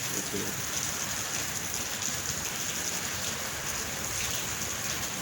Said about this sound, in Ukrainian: Дощ іде, окунь по дощу не клює